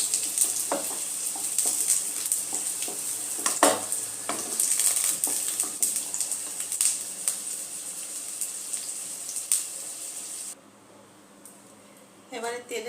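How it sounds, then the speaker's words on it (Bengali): Bay leaf, green chillies and ginger paste spitting in hot oil, a bright crackling sizzle with scattered sharp pops that drops away near the end before a brief stir returns; a voice talks over part of it. "এবারে তেলে আমি তেজপাতাটা দিয়ে দিলাম, লঙ্কাগুলো যে নিয়েছিলাম লঙ্কাগুলো দিয়ে দিলাম, সাথে আমি আদা বাটাটাও দিয়ে দিয়েছি।"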